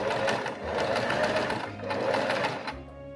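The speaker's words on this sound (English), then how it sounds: "I started by sewing the back piece to the two side panels." A sewing machine stitches a jacket back piece to its side panels, a fast, steady mechanical whir with rapid needle ticks, close and continuous for a few seconds before slowing at the end.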